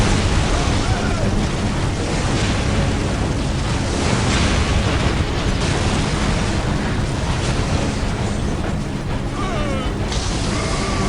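A building blows apart and crumbles in the Warhammer 40K video game, a dense continuous roar of explosions and collapsing debris that stays loud and steady throughout, with booming rumbles and crackling layered over it.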